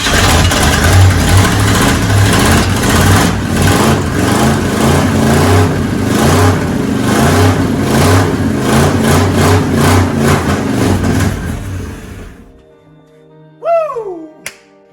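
After years sitting in a field, a 1969 Ford truck's engine runs loud and close with repeated rhythmic revs over a rough idle, then cuts off, leaving near-silence and a brief faint squeak.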